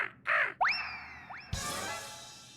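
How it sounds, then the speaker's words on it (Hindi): A crow caws several times up close, sharp rising calls in quick succession followed by a burst of rustling noise, heard on a rooftop in a comedy scene. "ये तो कौवा है।"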